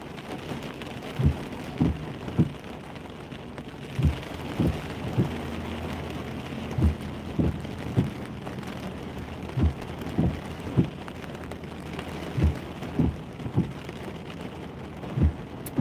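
Heavy rain pours down during a storm, a steady hiss of rainfall with repeated irregular thumps and drips hitting a nearby surface.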